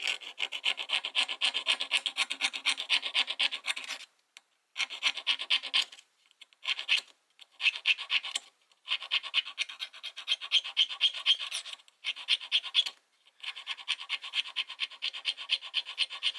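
A big steel sewing needle scraping out the nail nick on an old Schrade 33OT Old Timer pocket knife blade, giving a close, bright raspy scratching in quick repeated strokes broken by short pauses.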